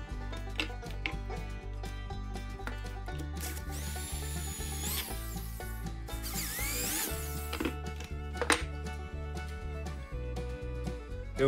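Power drill fitted with a depth stop boring dowel holes in scrap wood, a steady motor drone with several short drilling bursts through the clip, close and loud.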